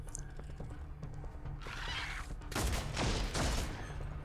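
Gunfire in the Warhammer 40K Deathwatch video game, a few sharp shots early on followed by a loud burst of rapid fusillade bangs in the second half, close and dominant.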